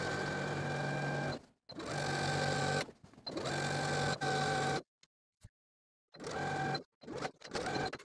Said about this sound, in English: Now we're going to stitch the hem in place, starting from one center front all the way across